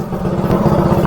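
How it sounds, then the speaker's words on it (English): A minibike engine fitted with a five-foot intake runner idles steadily and loud up close, its rapid even chugging pulse running throughout with no voices. "this thing idles pretty good. It actually sounds good."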